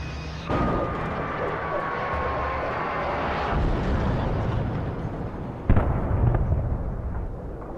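A helicopter goes down in the video game Alan Wake: a broad roaring engine wash fills the scene, then a sharp crash-like bang hits and the rumble continues afterward.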